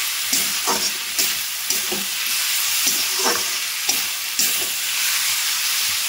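Bottle gourd and shrimp being stirred in a frying pan, a steady sizzle and hiss with repeated scraping strokes of the spoon against the pan, close and fairly loud, no talking.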